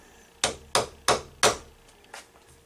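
A hammer taps a metal workpiece down onto parallels in an angle lock vise: four crisp, evenly spaced metallic knocks, then a lighter fifth tap, close and clear in a quiet shop.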